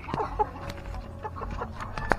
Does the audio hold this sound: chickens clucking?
yes